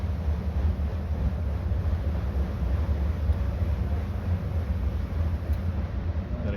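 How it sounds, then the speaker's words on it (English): A DJM3 high-turndown gas burner runs its pre-purge cycle, giving a steady, loud broadband rush of air with a low rumble underneath that holds even throughout. "Okay, so it's just doing its pre-purge at the moment."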